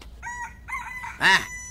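A rooster crows once, close and loud, its cry rising and bending in a bright burst, with fainter clucks and bird calls from the farmyard before it and no talking.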